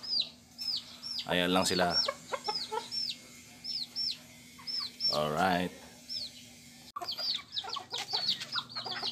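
Native backyard chickens cluck in a repeated series of short, near calls with a higher chirpy note, while someone talks over them in two brief stretches.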